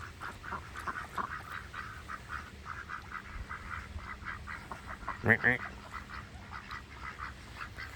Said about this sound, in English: Leave the ducks alone.